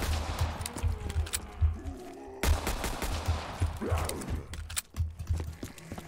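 Rapid video-game gunfire from a Call of Duty Black Ops 3 zombies match, sharp repeated shots and bursts in close, loud clusters over a busy background of game effects.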